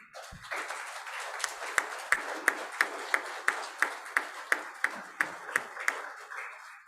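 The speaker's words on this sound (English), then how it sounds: "This moment should not fall short of applause, so I request the audience to join hands with me." An inauguration audience at a summer school claps in steady unison, a fairly quiet run of evenly spaced single claps that fades out at the end.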